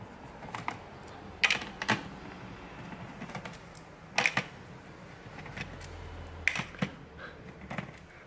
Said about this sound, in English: So we'll start off by taking out all the screws that are here.